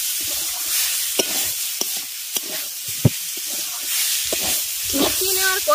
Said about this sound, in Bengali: এবার সমস্ত কিছুকে ভালো করে একটু মিশিয়ে নিচ্ছি।